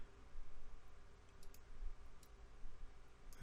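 Faint, scattered clicks of typing on a computer keyboard sound against a low background hum, a few light taps spread irregularly.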